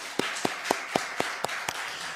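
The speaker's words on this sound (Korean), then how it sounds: "하나님 앞에 다시금 감사의 박수 올리겠습니다" A church congregation claps in thanks during an evening sermon: seven evenly spaced, sharp unison claps, close and distinct, with no talk between them.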